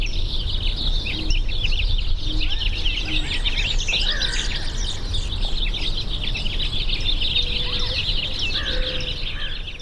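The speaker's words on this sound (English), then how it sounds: "we could listen to the dawn chorus" A dawn chorus at sunrise, many bird species chirping and singing at once in a dense, steady wash of overlapping calls, with a few clearer whistles standing out over faint low background rumble.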